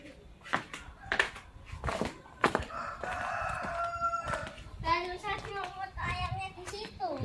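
A rooster crows beside a shrine grounds in Magelang, Indonesia, its drawn-out call rising after several sharp taps and handling noises, with people talking nearby.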